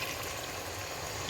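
Hot water pours steadily into a cooking pot of lamb meat in a home kitchen, making a continuous, even rushing splash throughout.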